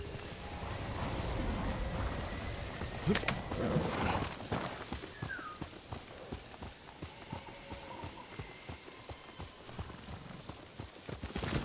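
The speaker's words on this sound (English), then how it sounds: "Horse!" A horse in the video game Ghost of Tsushima moves along with rhythmic hoofbeats, steady clip-clop thuds over ambient outdoor game sound, with a brief whinny-like call and a short spoken exclamation early on.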